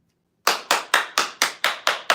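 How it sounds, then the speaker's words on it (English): A single person claps their hands eight times in a steady, even rhythm, crisp and close, with no other sound. "I'm clapping for myself because I did not think that this was going to happen"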